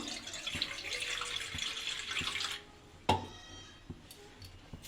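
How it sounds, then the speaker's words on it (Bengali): Water poured into a kitchen pot for sugar syrup for pitha, a steady close trickle for a few seconds, then stopping, followed by a clunk and a few faint knocks; no talk. "জল দিয়ে দেব আমি"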